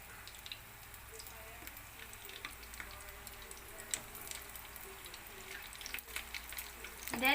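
Beef and vegetable spring rolls fry in hot oil, a steady soft sizzle with scattered crackles that swells toward the end, heard close under a speaking voice.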